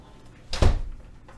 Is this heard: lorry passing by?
no